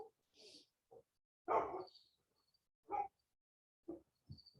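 Several short barks from dogs at a distance, scattered in separate bursts with quiet gaps between them.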